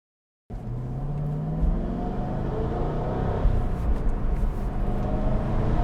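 A Cadillac CT5-V Blackwing engine rumbles steadily from inside the cabin, rising slightly in pitch as it accelerates, with a constant low drone and no talking.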